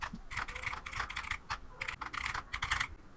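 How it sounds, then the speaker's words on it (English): Quick bursts of typing on a computer keyboard, crisp close clicks in uneven clusters with brief pauses between, fairly quiet and alone with no voices. "And now when you type something,"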